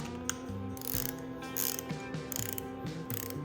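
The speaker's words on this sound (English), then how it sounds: "We'll just alternate around till we get them all snugged up before we torque anything crazy." Ratchet snugging camshaft sprocket bolts on a 383 LT1 engine, rhythmic pawl clicks in short repeated strokes, close-up and steady with no talk.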